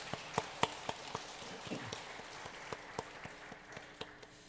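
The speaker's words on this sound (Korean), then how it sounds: "우리 박수로 격려하도록 하겠습니다." A church congregation claps for the worship team: quiet, sparse applause with a few distinct sharp claps standing out over a soft, thin background patter, no talking.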